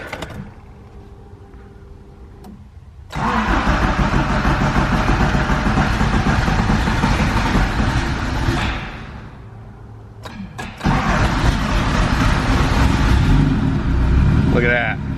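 A turbocharged Honda Civic with an EF chassis cranks and then fires up. After a quiet start the engine catches and runs loud and steady, close by. It dips briefly, then comes back strong and keeps running at full level.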